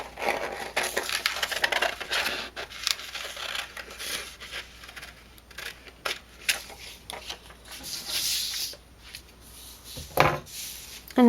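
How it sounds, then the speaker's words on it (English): Loose cutting of dazzle vellum paper set over white vellum, heard as a steady run of crisp snips and papery rustles, close and fairly quiet with no talk. "So the first thing I'm going to do is cut this out just kind of loosely for now"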